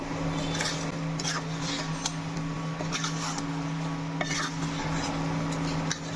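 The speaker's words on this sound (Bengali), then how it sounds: "আবার একটু আলতো হাতে নেড়ে দিব" Ground spices being stirred gently into a Bangladeshi green-mango pickle, with soft scraping and clinking of a spoon against the pot, repeated at an irregular pace over a steady low hum.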